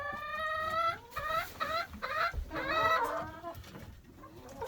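A young hen clucks in the snow, a series of rapid, nasal, strongly harmonic calls in short bursts, close and fairly loud, with no speech over them.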